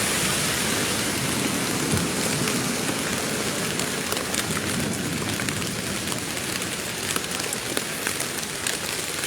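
Heavy rain pours steadily near a tent camp in Kahramanmaraş, a dense, loud, continuous hiss with scattered sharp drop ticks and no letup.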